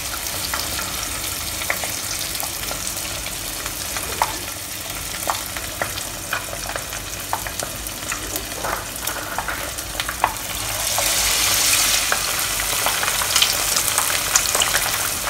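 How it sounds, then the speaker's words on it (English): Chicken pieces for Indonesian ayam penyet fry skin side down in hot oil with a dense, crackling sizzle full of small pops. The sizzle grows noticeably louder and hissier for the last few seconds. "And we'll fry it now, skin side down."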